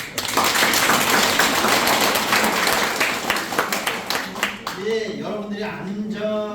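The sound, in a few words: audience applause after a lecture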